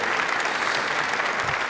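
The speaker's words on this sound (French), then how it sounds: "il faut les applaudir quand même, le quintet derrière nous" An audience at a gala claps for a swing band in a thick, continuous burst of applause, steady and fairly loud for the whole moment.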